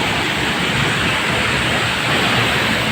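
Mother Falls, a waterfall in San Luis, Baler, Aurora, roars in a steady, dense rush of falling water, loud and close, with no voices over it.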